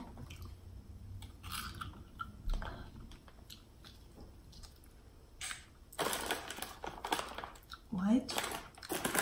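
Close crunching and chewing of potato chips during a chip guessing challenge, irregular crisp bites that grow denser toward the end, with brief voices and rustling around them.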